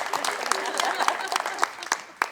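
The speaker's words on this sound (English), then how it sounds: "Give her a round of applause" Audience applause at a senior center celebration, a room of people clapping steadily with sharp individual claps standing out, voices talking over it throughout.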